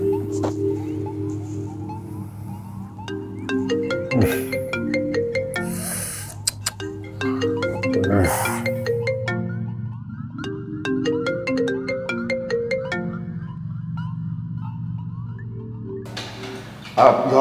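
A mobile phone ringtone plays for an incoming call in a Nigerian drama scene, a bright repeating melodic tune cycling steadily and loudly for many seconds with no talking over it.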